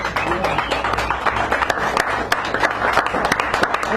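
Audience clapping at a café poetry reading, a small crowd giving sharp, uneven claps continuously with voices mixed in around them.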